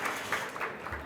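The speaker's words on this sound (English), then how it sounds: "give him a huge round of applause" An audience at a gala keynote event applauds as the speaker takes the stage, a brief burst of steady crowd clapping with no voices over it.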